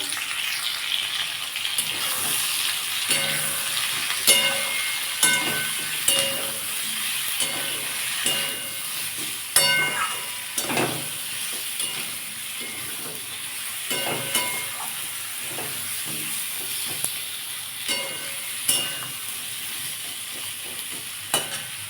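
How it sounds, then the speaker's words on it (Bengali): Tomatoes sizzle and hiss in a hot pan, with repeated scraping and stirring clatters breaking through the steady frying noise. "টমেটোটা একটু ভালো করে একটু ভেজে নেবো যাতে নরম হয়ে যায়"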